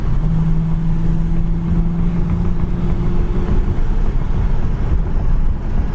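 A 1981 Pontiac Firebird runs and drives, its engine a steady low drone with a humming tone, mixed with wind and road rumble that stay constant throughout.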